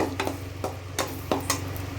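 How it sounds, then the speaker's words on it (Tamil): Eggs being stirred in a pan while making egg rice, a spatula scraping in a few distinct strokes over a steady low hum, close and moderately loud. "இப்போ இதை நல்லா கிண்டிக்கிடுவோம்"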